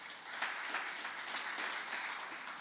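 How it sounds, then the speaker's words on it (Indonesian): A church congregation at an Easter Sunday service claps together, a fairly faint but continuous patter of many hands with slight swells in rhythm throughout. "Kasih tepuk tangan bagi Tuhan."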